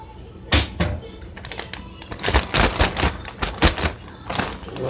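A bag of all-purpose flour being folded up in a kitchen, a string of sharp crinkles and paper taps in uneven bursts, close and fairly loud, with no talking.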